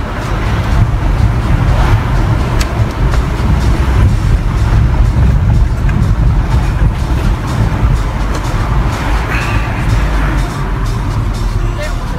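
Steady, loud road traffic roars through an open car window in Rio de Janeiro traffic, a dense continuous rumble of engines and passing vehicles with no breaks.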